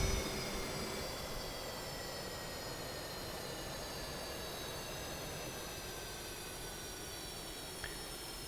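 The right jet engine of an F/A-18 Hornet spools up in DCS World, a steady broadband roar with a rising high whine that holds constant throughout, loud and continuous with no speech.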